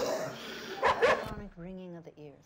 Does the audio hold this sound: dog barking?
yes